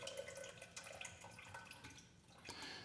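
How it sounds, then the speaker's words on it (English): Tap water pours into an electric kettle in a kitchen, a quiet, uneven splashing and trickling with small drips and gurgles, heard alone and fairly close. "And then I'm going to fill my kettle with water."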